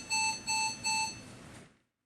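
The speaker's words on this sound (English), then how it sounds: "If an alarm occurs, the current cycle immediately stops." Alarm buzzer on a Steris Vision cart washer, three evenly spaced electronic beeps sounding clearly and alone, ending with a short fading tail.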